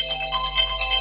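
A phone alarm rings out as a five-minute countdown signal, a steady, bright electronic tone with layered high pitches that holds at an even level for about a second, with no talking over it.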